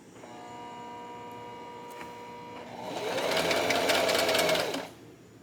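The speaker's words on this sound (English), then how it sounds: "We're sewing. We're sewing." A sewing machine hums steadily, then runs faster and louder as it stitches for a couple of seconds before stopping, close by.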